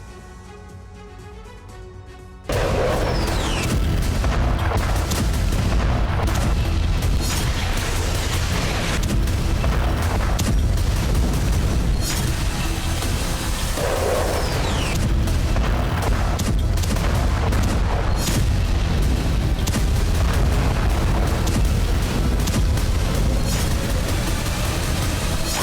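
Explosions from attacks in Gaza, replayed as news footage, come as repeated heavy booms and blasts over a dense, continuous rumble after a quiet opening, loud and sustained with no speech.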